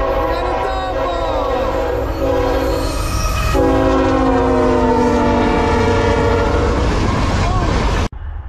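A loud train horn blares with long sustained chords over the heavy rumble of a passing military freight train, continuing until it cuts off abruptly near the end.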